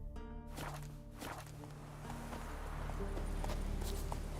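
In The Witcher 3, a horse's hooves clop steadily at a run on the ground, close and fairly loud over continuous game ambience.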